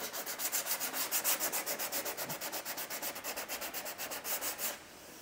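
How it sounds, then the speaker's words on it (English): Rapid, steady back-and-forth strokes of sandpaper scratching hard plastic, close and rhythmic for several seconds before stopping. "just about a minute of sanding"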